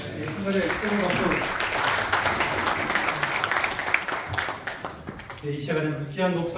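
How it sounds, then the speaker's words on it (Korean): Warm congregational applause at a church breakfast worship service, steady and sustained, with a sung or spoken voice audible at the start and again as the clapping fades near the end. "순간에 뜨거운 박수"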